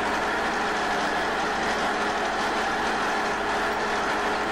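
A DT-75 crawler tractor engine in the Spin Tires game, set in low gear, drones steadily and loud throughout, a continuous broadband hum with no talk over it.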